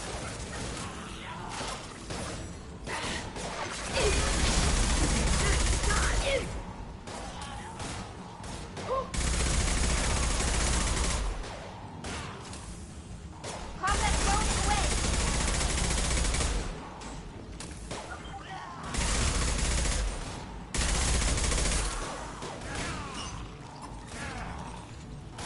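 Gunfire during a firefight in the video game Mass Effect 2, repeated loud bursts of automatic shooting lasting several seconds each, separated by short quieter gaps filled with mechanical clatter.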